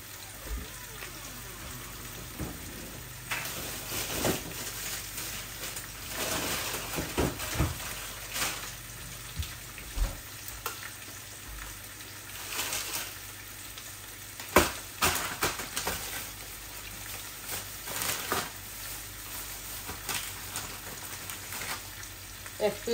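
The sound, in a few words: frozen tilapia fish frying in oil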